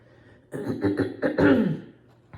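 A short fit of several rough coughs in quick succession, close and fairly loud, after a moment of quiet.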